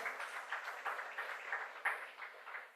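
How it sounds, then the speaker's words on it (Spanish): Modest applause greets medal winners at a medical workshop on atrial fibrillation, a soft, steady spatter of clapping from a room of attendees, fairly faint and even throughout, with no one speaking over it. "Aplauso."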